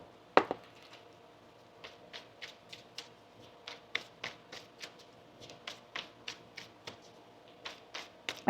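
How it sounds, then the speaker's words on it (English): Tarot cards being shuffled by hand, a run of crisp, papery riffles and taps coming in an irregular rhythm, close and fairly quiet, with no voice over them. "Let's get one more shuffle here for you"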